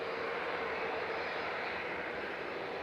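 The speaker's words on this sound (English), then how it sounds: "This is EasyJet departing now, over to Corfu with flight 2063." EasyJet jet airliner departing Manchester Airport for Corfu on flight 2063, its engines a steady, loud broadband roar that holds evenly throughout with no voices over it.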